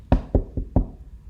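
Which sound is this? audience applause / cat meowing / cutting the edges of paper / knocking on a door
knocking on a door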